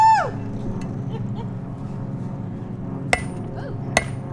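A hammer strikes twice, with sharp, ringing impacts spaced about a second apart, standing out against a low, steady background rumble at an outdoor Aztalan Day event.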